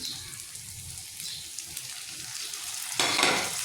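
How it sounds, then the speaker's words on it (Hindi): Garlic-ginger paste, turmeric and tomato frying in a pan for bhindi masala give a steady close sizzle with light stirring scrapes. The hiss grows brighter and louder near the end. "इसको मैं अंदर इसके फ्राई करती हूँ"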